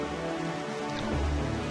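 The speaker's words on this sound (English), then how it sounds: "Oh, the rain freaked me out." Rain in the video game The Legend of Zelda: The Wind Waker, a steady, close hiss of falling rain that holds evenly through the short stretch, with a slightly louder low rumble near the end.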